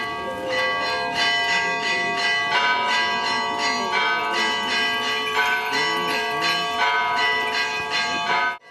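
Orthodox church bells peal at Easter, several bells struck in a rapid, overlapping rhythm with ringing tones that hang in the air, loud and continuous, then cut off abruptly at the end.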